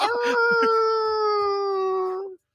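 A man on a sports radio show imitates a wolf howl with his voice: one sustained, wavering tonal wail held for about two seconds, loud and close, then cut off abruptly.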